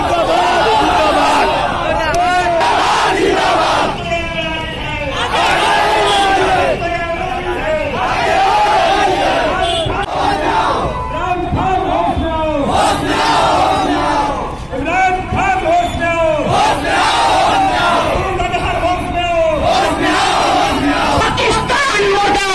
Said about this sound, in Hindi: लोग इमरान खान मुर्दाबाद पाकिस्तान मुर्दाबाद के नारे लगा रहे हैं